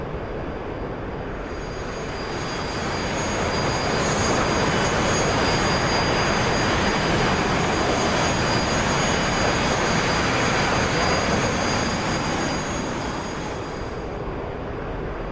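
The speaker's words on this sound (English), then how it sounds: "Not much point flying an F-16 as opposed to an Airbus if you can't make some use of the afterburner" An F-16I Sufa fighter jet in the DCS World flight simulator roars with its afterburner lit. The loud, broad, steady rumble swells in during the first seconds, holds for a long stretch, and thins slightly at the end.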